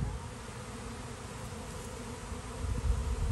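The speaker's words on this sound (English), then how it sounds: "All the bees are really starting to go." A honeybee swarm buzzing thickly around a backyard hive, a dense, steady drone that holds nearby and swells slightly toward the end, with no talking.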